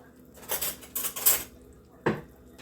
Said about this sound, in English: I'm going to baste it a little bit.